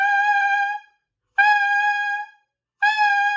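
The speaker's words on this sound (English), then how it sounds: "Your tongue attack is just using your tongue to start the note" Three saxophone notes, each started crisply with a tongue attack, begin sharply and hold steady before stopping, separated by short silences, close and clear with no voices.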